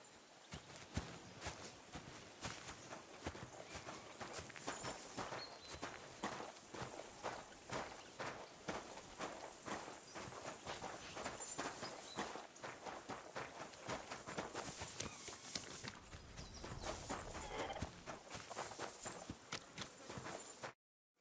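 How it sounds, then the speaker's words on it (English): Horses walking in Kingdom Come: Deliverance 2, a continuous run of soft hoof clip-clops on the ground with steady irregular rhythm, fairly quiet and unaccompanied by speech. "Lovely horses you have here"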